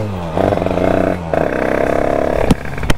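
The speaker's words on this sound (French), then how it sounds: "J'ai jamais vu une moto qui fait autant de bruit." A very loud motorcycle engine heard close up from the rider's position, droning steadily with a rough, pulsing throttle note that dips briefly and returns, then ends in a couple of sharp cracks.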